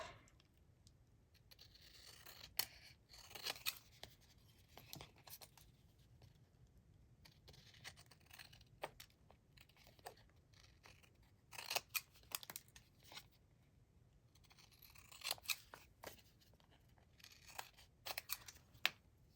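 Scissors trim yellow and brown paper scraps in short bursts of snipping and crinkling, with quiet pauses between each cut, close by and faint.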